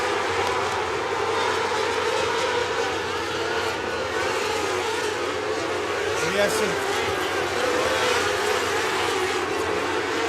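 Winged sprint race cars roar around Southern Illinois Raceway during a NARA Wing Challenge Series race, a dense sustained engine drone with a passing pitch sweep, under a fast announcer's commentary.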